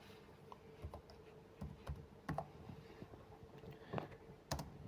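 Faint, soft clicks of computer keyboard keys tapped in short irregular bursts as the name Georgia is entered, with light mouse-like ticks between.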